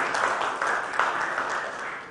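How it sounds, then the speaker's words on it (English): An audience at a ports summit inaugural in India claps to welcome a speaker onto the stage, a steady, even spread of applause at moderate level throughout. "Sir, I welcome you on stage and with a round of applause"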